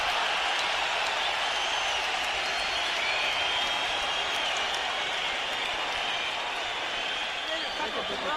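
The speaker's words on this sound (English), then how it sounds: "and the crowd goes nuts." A boxing crowd cheers during the Marquez vs Barrera fight, a dense, loud, continuous roar that fills the arena throughout, with voices mixed into the din.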